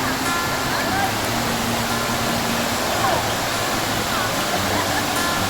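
Encanto Falls pours in a constant broadband rush of falling water, close and loud, a continuous roar with no breaks throughout.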